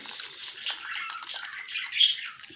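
Water pours steadily into a tray of köfte meatballs and vegetables, a close, continuous splashing trickle that rises briefly near the end.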